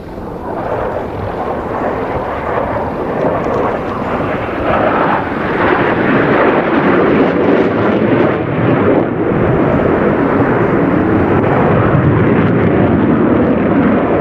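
Eurofighter Typhoon fighter jet performing a flying display at NATO Days and Czech Air Force Days, a loud, sustained jet roar that swells slightly and never lets up.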